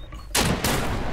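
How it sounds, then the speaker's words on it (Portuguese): Two loud, close gunshots crack in quick succession during gameplay of the survival shooter Deadside, each a sharp broadband blast that rings on briefly. "Vou dar um tiro, ó."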